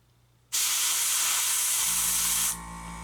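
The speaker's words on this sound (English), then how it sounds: "I don't want to smear it around once I've started spraying either" An airbrush sprays paint onto a scale model spaceship, a loud steady hiss that starts abruptly, holds for about two seconds and then drops to a softer hiss.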